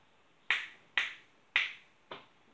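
Four crisp finger snaps at a steady pace, each a sharp click with a quick decay, the last one softer, heard alone in a quiet home room.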